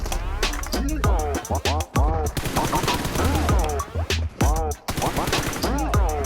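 Gunfire in the PUBG Mobile video game: rapid, loud bursts of shots crowd the whole stretch, broken by brief gaps, with an occasional voice mixed in.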